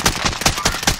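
Rapid automatic gunfire from an MG82 machine gun in the video game Call of Duty: Warzone, loud close bursts of about five evenly spaced shots in quick rhythm.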